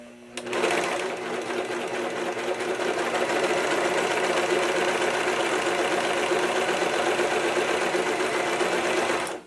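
An overlock serger runs continuously, stitching and trimming fabric as its blade cuts the edge, producing a loud, fast, steady mechanical whirr that starts abruptly and holds an even drone until it stops at the end.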